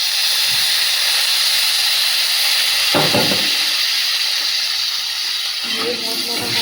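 Steady loud hiss of turmeric, coriander and Kashmiri chilli powders sizzling in a pan as a little water is added, continuous and close with a couple of brief bursts of spattering.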